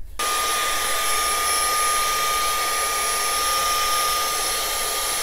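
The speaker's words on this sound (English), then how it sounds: "vacuum it here" A vacuum cleaner starts abruptly and runs with a steady, loud whooshing roar and a thin constant whine, no voices, while cleaning GE refrigerator condenser coils.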